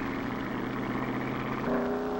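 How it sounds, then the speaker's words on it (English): Race car engine note at takeoff, a brief moderately loud rumble that rises in pitch near the end as the car accelerates, alone without talk. "The car fishtailed at the takeoff."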